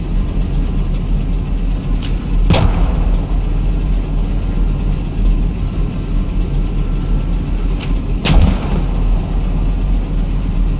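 Artillery rounds fire twice, each a single sharp boom standing out above a steady low rumble, several seconds apart, with no talk.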